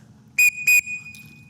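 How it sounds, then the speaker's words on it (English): Two sharp, loud whistle blasts in quick succession on an air rifle range, signalling shooters to return rifles to the rack, followed by quiet background. "That means 2 whistle blows that sound like this."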